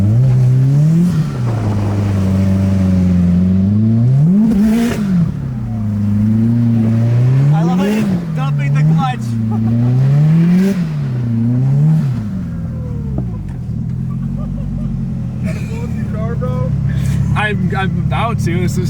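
A Subaru STI drifting in snow, its engine revving up and down in repeated loud surging cycles close by, rising and falling pitch, then settling to a lower drone with some tire and cabin noise; no speech over it.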